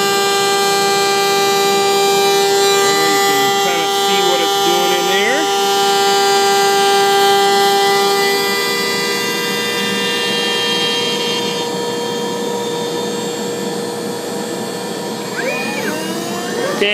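A CNC woodworking machine makes a jointer cutting pass, giving a loud, steady high-pitched spindle whine with tonal harmonics that holds for the whole stretch and shifts slightly in pitch near the end.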